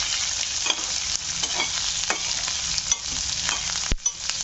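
Upma seasoning of chilies, onions and curry leaves frying in a pan, with a steady close sizzle and scattered scraping stirs, plus one sharp clink toward the end.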